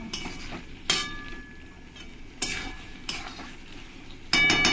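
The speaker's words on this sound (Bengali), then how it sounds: "আলুগুলো দিয়ে আমি মশলার সঙ্গে একটু ভালো করে কষিয়ে নেব।" Fried potatoes being stirred into a spice masala in a pan, heard alone as a constant sizzle with a few sharp spoon scrapes and clinks against the metal.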